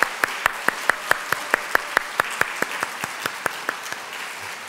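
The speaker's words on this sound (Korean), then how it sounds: "우리 글로리아 찬양팀에게 우리 한번 큰 박수로 한번 축복하겠습니다." A church congregation claps for the Gloria praise team, a slow, steady series of sharp, distinct claps with one clap leading, tapering slightly in loudness toward the end.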